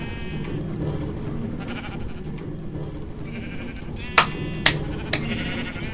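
Sheep bleating in a video game, a few short sharp bleats near the end rising over a steady background game hum, with no talk.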